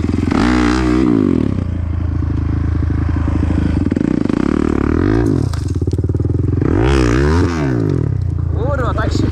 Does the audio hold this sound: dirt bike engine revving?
yes